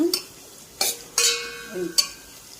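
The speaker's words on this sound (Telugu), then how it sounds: "పసుపు ఆయిల్ కొద్దిగా వేసేసి ఇది సిమ్లో పెట్టి ఉడికించుకుంటాను" Chicken simmering with turmeric and a little oil over a low flame for chicken pickle, a soft sizzle broken by a few distinct spoon scrapes and stirring clinks against the pan.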